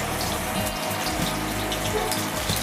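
Water drains from cooked rice in a steady, close, continuous rush of pouring liquid for a few seconds, with no voices.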